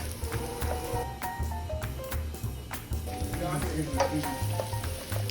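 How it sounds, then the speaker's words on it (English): Onions and mushrooms sauté in a pan, a continuous sizzle under repeated scraping and stirring strokes, with a voice talking over the cooking. "This will saute for 6 minutes until the onions are translucent, and as we're adding the mushrooms,"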